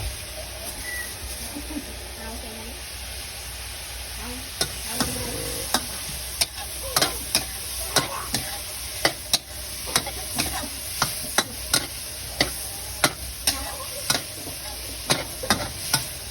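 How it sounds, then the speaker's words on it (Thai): Pad kaprao with vegetables stir-fries in a hot pan, a steady sizzle broken by sharp, regular scrapes and taps of a spatula against the pan, growing frequent and rhythmic toward the end. "แล้วลงผัก ผัดกะเพราลงไป"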